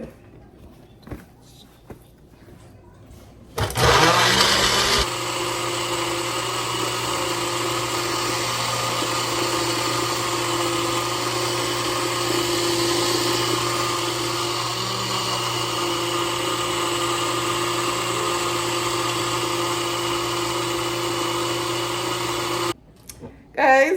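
An overfilled kitchen blender runs continuously at a loud, steady whir for about twenty seconds, starting and stopping abruptly, with brief sounds before and after.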